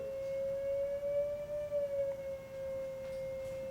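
A steady electronic tone hums from a speaker, wavering slightly in pitch, faint and continuous over a low background hiss.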